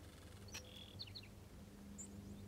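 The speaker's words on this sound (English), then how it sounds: "I hear lots of birds. Sound pretty." Wild birds sing and chirp outdoors in open cow country. The calls are faint, scattered and high, with brief trills over a quiet low rumble of background air. Nobody speaks.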